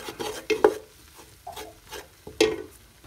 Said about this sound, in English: Obviously, stir that, because you're making a paste.